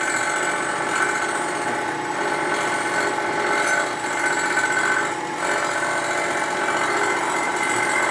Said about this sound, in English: The carbide cuts real good.